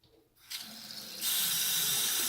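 Hot water runs from a faucet while a water heater tank is being drained, starting as a faint trickle and then switching to a loud, steady full-flow hiss close by.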